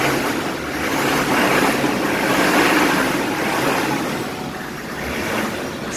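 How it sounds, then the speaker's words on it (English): A running H1 Hummer engine revving up, a steady loud broadband roar swelling and easing over several seconds with no talk. "You guys can hear this thing rev up."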